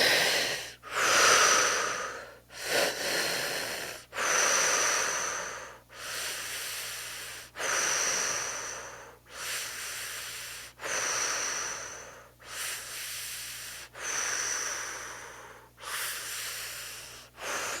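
Slow, deliberate breathing cycles repeat about every two seconds, each a drawn-in inhale followed by a longer, breathy exhale through the mouth, close and clear with no talking.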